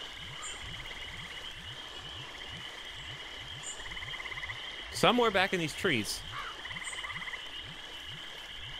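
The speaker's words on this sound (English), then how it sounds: "I hear a frog." A frog croaks repeatedly in a steady low rhythm within the Finding Bigfoot video game's wooded night ambience, with insect-like drones overhead, while someone speaks briefly in the middle.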